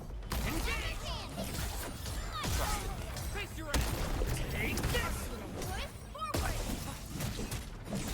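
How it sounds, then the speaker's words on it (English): Explosions and gunfire in the Arknights video game: repeated sharp crashing blasts and bursts of shots come close and loud, with music and voices running beneath the battle noise. "There's some explosions."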